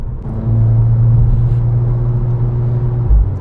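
Seat Cupra Leon with 440 hp driving on a cold engine, a loud low steady rumble heard from inside the cabin with a droning tone, swelling briefly toward the end; no talk over it.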